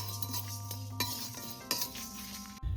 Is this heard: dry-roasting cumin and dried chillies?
yes